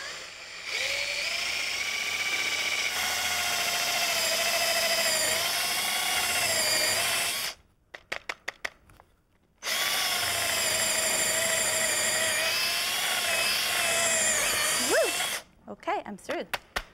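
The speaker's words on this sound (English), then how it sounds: "the drill tends to blow the wood out the bottom of the bottom board" A power drill bores through stacked wooden boards with a scrap piece beneath, giving a loud steady whine for several seconds, a short pause with clicks, then another long run before stopping.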